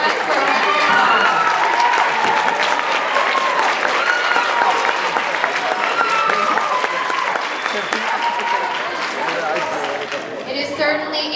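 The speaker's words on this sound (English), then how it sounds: "Please rise for a round of applause." Sustained audience applause fills a school pops concert hall during a senior recognition ceremony, loud and steady throughout before thinning slightly at the end, with crowd cheers mixed in.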